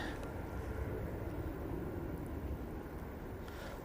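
A Turkish Airlines Airbus A321neo landing at Manchester Airport after a flight from Istanbul, heard as a steady, broad low roar of jet noise holding evenly throughout at moderate distance.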